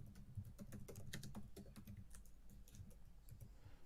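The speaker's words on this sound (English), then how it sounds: "I hear someone furiously typing." Rapid, loud typing on a computer keyboard during an online tabletop role-playing session, a dense run of close clicks and key strikes that carries through the whole stretch with no talking.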